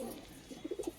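Pigeons in a loft give a short run of soft, rounded coos, four or five close together near the end, fairly faint over a low background hum.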